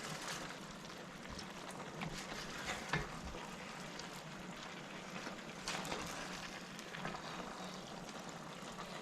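Cabbage and chicken being stirred with curry in a hot pan give a steady close sizzle and scraping, with louder spatula scrapes at intervals and no talking.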